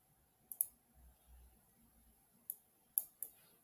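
A computer mouse gives a few sharp, quiet clicks in near silence: a pair close together early, then a single click, then another quick pair a moment later.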